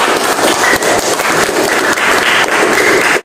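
Students in a classroom give loud, close, energetic applause for a teacher's performance assessment session, dense rapid clapping that runs continuously before cutting off abruptly.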